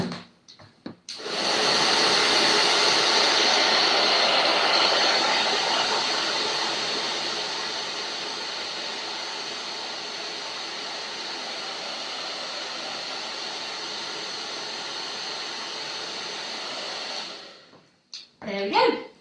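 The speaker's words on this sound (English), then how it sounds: "There we go, hair drying finished." A hair dryer blows over a watercolour painting, a loud steady whooshing roar that switches on after a second, holds constant with a slight drop in level, then cuts off near the end.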